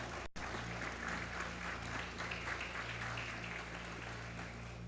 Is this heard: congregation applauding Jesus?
yes